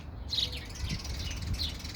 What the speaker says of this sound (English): The birds are frolicking out here.